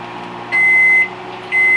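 A microwave oven beeps after heating a cup of water, two steady electronic tones about half a second each separated by a pause, loud over a constant low appliance hum.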